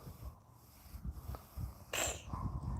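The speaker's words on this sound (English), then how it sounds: "Bless you, Mama B" A cat sneezes once sharply amid soft snuffling and breathing noises, close up.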